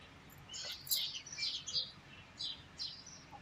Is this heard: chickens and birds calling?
yes